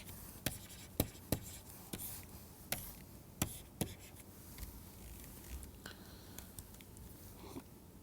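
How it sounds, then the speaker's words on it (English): Chalk or pen writing during a university group theory lecture, a series of sharp taps and short scratches, clustered early and then sparser and fainter, in a quiet room with no clear talk. "let me write it down here"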